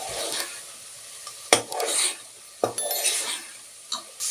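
Eggs stirred into frying masala for egg biryani, with a steady sizzle broken by a few sharp spoon knocks against the pot and scraping strokes, close and clear with no talk.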